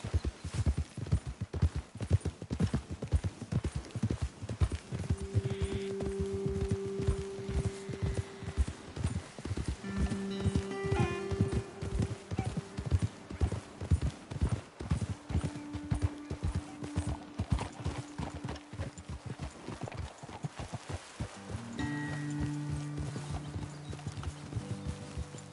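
Horses ridden in the Western video game Red Dead Redemption 2 clip-clop at a steady walking pace, hooves thudding rhythmically and close, with short musical tones rising in the background and no one speaking.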